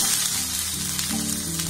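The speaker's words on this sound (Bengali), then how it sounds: "পেঁয়াজটাকে একটু ব্রাউন করে আমি ভেজে নেব।" Chopped onion with grated ginger fries in a pan, giving a steady, close, continuous sizzle with no voices over it.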